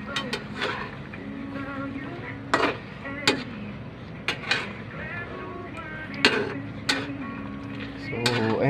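Chicken liver adobo (adobong atay) being stirred in a pan, with irregular clinks and scrapes of a utensil against metal over a steady simmering hiss.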